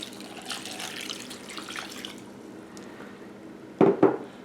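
Water splashes and trickles into a pot for a couple of seconds, followed by a few louder sloshing pours near the end.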